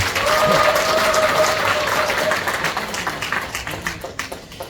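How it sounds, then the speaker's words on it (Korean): An audience applauds loudly after a lecture at a labor committee launch event, with dense crowd clapping that thins out toward the end into scattered individual claps. "다시 한번 큰 박수 부탁드리겠습니다"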